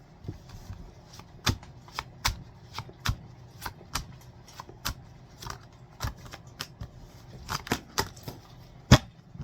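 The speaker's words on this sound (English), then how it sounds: "I'm gonna pull a couple cards from the tarot" Tarot cards are shuffled in a close run of crisp, uneven snaps and riffles, with a sharper slap near the end and no talking.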